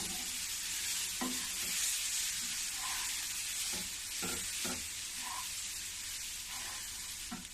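A spoon stirs milk into a laddu mixture in a pan over low gas, a steady soft sizzle and hiss running throughout with faint scraping strokes repeating every second or so, close and alone.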